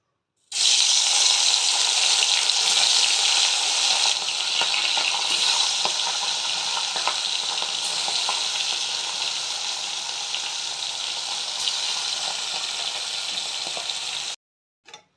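Fresh Ganges river fish fry in hot oil, a loud, steady, close hissing sizzle that runs unbroken for the whole stretch, with faint stirring clatter and no talking.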